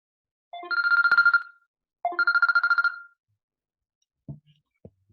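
A mobile phone rings nearby in two loud, buzzy electronic bursts with a pause between them, followed by a few soft clicks and bumps.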